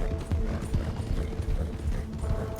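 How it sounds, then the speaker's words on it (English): A small, fast horse in the video game Red Dead (WildRP) clip-clops along with a quick, even run of close hoof hits, with faint mechanical clicks mixed in. "This is Alice's horse."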